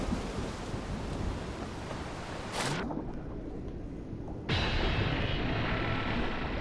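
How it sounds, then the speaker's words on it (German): Heavy rain pouring steadily in a PS4 Pro horror survival game, a dense broadband hiss broken by a sharp thunder-like crack mid-clip before the downpour resumes at full strength. "Es regnet wie Sau."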